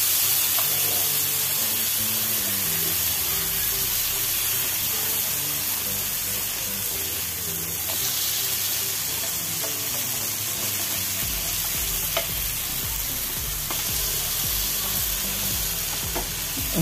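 Pomfret fish fries in a pan just after being turned over, a loud, dense and continuous sizzle of hot oil with faint crackles and the odd scrape, no talking.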